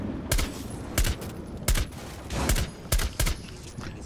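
Gunfire in Rainbow Six Siege: sharp, loud single shots crack out roughly every half second to second, about seven in a row, each close and punchy with brief echoing tails between them.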